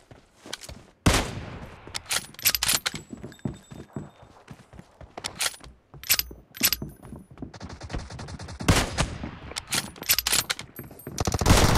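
Gunfire in a shooter video game: loud, close bursts of rapid shots and single cracks in irregular clusters, with brief quieter gaps between volleys.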